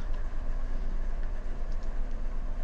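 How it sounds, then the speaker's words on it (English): Train arriving in a railroad video game, a low rolling rumble with faint clanks, steady and moderately quiet throughout, no talk. "so we have a train arriving here"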